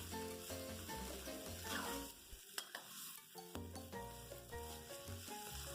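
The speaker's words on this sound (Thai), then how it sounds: "พี่อ้อก็จะใส่เนื้อหมูลงไปแล้วก็จะ ผัดให้เขาสุกนะคะ ก็ผัดไปเรื่อย ๆ ค่ะ" Pork stir-fries in a pan for green curry with wax gourd, a close, busy sizzle with repeated spatula clatters and scrapes, briefly dropping quiet midway before resuming; no talking.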